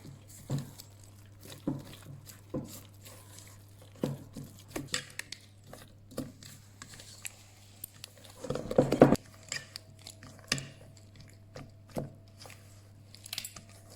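Whisk or spoon scraping and tapping in a bowl while pastry cream is mixed into galette des rois filling, with a run of soft, irregular clicks and one busier burst of stirring near the end, fairly quiet and without talk.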